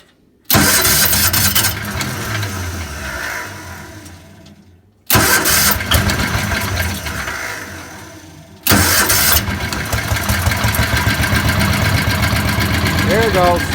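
A stock-engine COOT ATV cranks and fires up three times, each start followed by a loud, steady running rumble close by, with brief silent gaps between the attempts.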